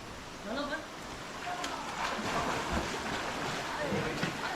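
Water flows and splashes at the doorway of the Hiranyakeshi temple in monsoon-season Amboli, a steady broadband rush with light patter like rain, while people talk over it.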